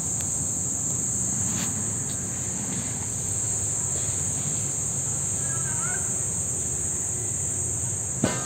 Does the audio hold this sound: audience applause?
no